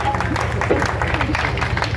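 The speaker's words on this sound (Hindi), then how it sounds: "जोरदार तालियां बजाइए" Applause and clapping from an audience at a public gathering addressed by an MLA in Siwan, a steady dense wash of hands lasting throughout, with crowd noise mixed in.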